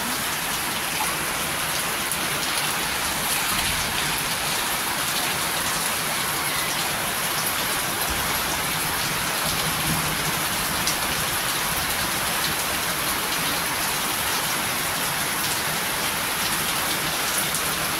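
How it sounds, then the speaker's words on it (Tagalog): Heavy rain drums steadily and loudly on a damaged house roof, a dense continuous roar with no letup. "Ang lakas ng ulan guys. Kumukulog pa siya."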